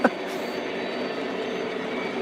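Lionel and MTH model toy trains, including a decapod locomotive, run on a track loop, making a continuous close rumbling whir with a faint high squeal and one small click at the start.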